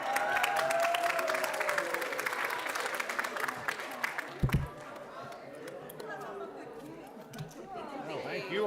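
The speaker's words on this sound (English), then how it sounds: "let's big round of applause for everyone" Indoor audience at an employee service award ceremony gives a warm round of applause that fades after a few seconds into murmured chatter and people talking nearby.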